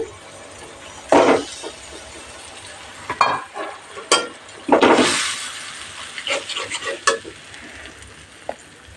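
Onion, ginger, garlic and chili paste ground on a grinding stone hits hot oil for aloo matar paneer, giving bursts of loud sizzling and stirring scrapes with a few utensil clinks, close and without talk.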